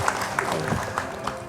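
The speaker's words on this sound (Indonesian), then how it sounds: "tepuk tangan lagi" Studio audience applause on an Indonesian talk show set, a steady wash of clapping with a few sharper claps standing out, moderately loud and continuous through the short moment, with faint voices mixed in.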